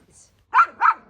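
A small yappy dog gives two quick, close barks, one after the other.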